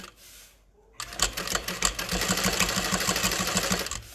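A sewing machine stitches zipper tape onto a tote bag at a 5 stitch length with a narrow seam allowance, starting after a quiet pause and then running in a fast, steady mechanical patter, close and alone.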